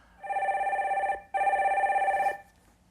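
A telephone rings twice for a call-in connection on a Korean stock-market radio show, two loud, steady electronic bursts of about a second each with a short gap between them, heard alone.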